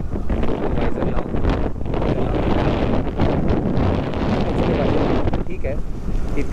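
Loud, steady wind roar buffets the microphone throughout a motorbike ride in the Amboli hills, with the rider's visor up, gusting continuously with no break.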